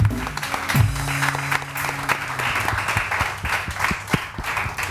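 A studio audience claps in a dense patter of many hands at moderate loudness, with a sustained musical tone fading out early and no clear talk over it.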